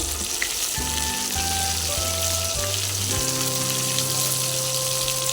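Stuffed potatoes and stuffed eggplant sauté in hot oil in a pan, giving a loud, steady sizzle and crackle throughout with a few sustained tones over it.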